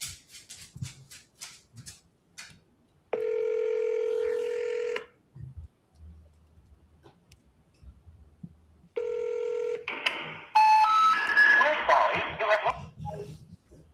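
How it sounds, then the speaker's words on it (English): Dialing on a phone call: a quick run of keypad tones, then two long steady ringback tones separated by a quiet gap, followed by a burst of busier line sound. "let's see if we can get him on the phone here"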